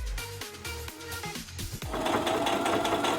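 Brother Strong & Tough sewing machine stitching through four folded layers of denim, a rapid rhythmic mechanical chatter of the needle that speeds into a dense continuous whir, close and fairly quiet, with no voices.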